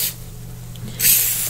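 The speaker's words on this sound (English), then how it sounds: "just take some ironing spray" Two quick hissing bursts from an ironing spray bottle onto fabric, one at the start and a longer one a second later, close by, with quiet between.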